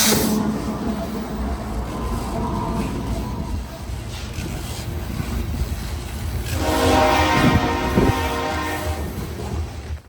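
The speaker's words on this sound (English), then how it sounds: "a westbound grain train heading towards Vancouver" Westbound grain train passing beside the Columbia River in Washington, a steady rolling rumble of railcars with a loud horn blast rising toward the end.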